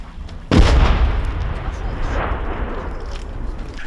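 A single incoming artillery shell explodes near the Bakhmut front line with a sudden heavy blast, then a long rumbling roll of debris and echo that slowly fades.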